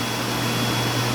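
A clothes dryer runs in a home, giving a loud, steady mechanical hum and whirring drone with no breaks, close by and alone.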